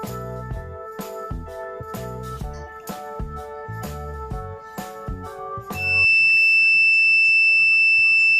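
An electric buzzer wired with red leads into a homemade battery circuit with copper connections lets out a loud, continuous steady tone for the last few seconds, after a stretch of rhythmic, tinkling tones.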